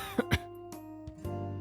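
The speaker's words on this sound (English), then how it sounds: "Crap, my cough is getting worse." A character in a visual novel game coughs twice in quick succession, short and close, followed by a faint throat sound and quiet music in the background.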